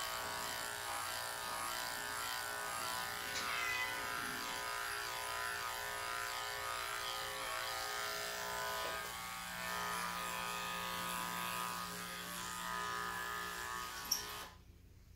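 Electric pet clippers trimming a Welsh terrier's coat on the head and body, a steady close buzzing hum that runs without break before stopping abruptly near the end.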